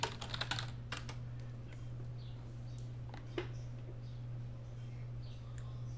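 Quick bursts of typing on a computer keyboard, a rapid cluster of clicks at the start and a few scattered keystrokes later, close and crisp over a steady electrical hum.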